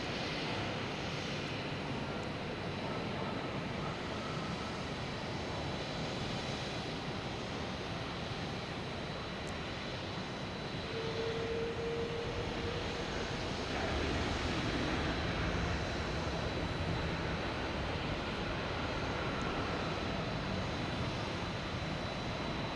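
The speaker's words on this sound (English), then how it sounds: "Any second now, there it is. Coming in from London Heathrow." An airliner arriving from London Heathrow lands at Boston Logan airport, heard as a faint, broad, steady engine roar from a distance over low background noise, with no talk.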